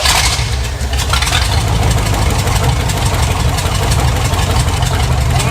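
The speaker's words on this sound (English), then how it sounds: "When I give it no fuel on the idle circuit, it idles." An old Pontiac engine, left abandoned for decades, idles steadily with a loud, rough, low rumble and a faint knocking texture after its carburetor idle screws are closed all the way, with no voices.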